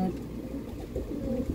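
Soft cooing from a racing pigeon, a low continuous murmur that runs through the whole moment, fairly close and steady with no talk over it.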